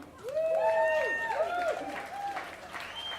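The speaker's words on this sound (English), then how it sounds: "All right, let's hear it again for Jim White." An audience at a songwriter awards ceremony claps and cheers, with rising and falling whistles cutting over the steady applause.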